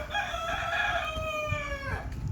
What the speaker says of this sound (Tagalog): tumitila ako pa yung manok